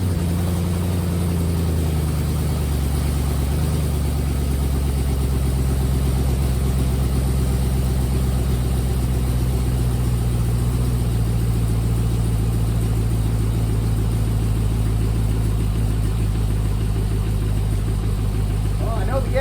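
A junkyard aluminum L33 5.3 V8 runs on an engine stand, a loud steady idle with a deep droning rumble throughout and a brief rev change near the start.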